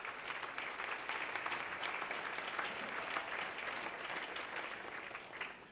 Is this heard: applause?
yes